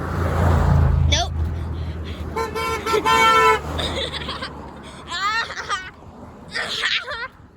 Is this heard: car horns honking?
yes